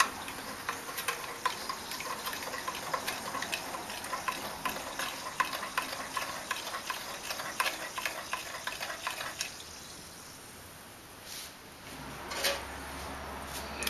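Cream of tartar mixture fizzes and bubbles as sodium carbonate is added and stirred while making Rochelle salt, a close, steady crackling hiss with small ticking clicks that thins out near the end.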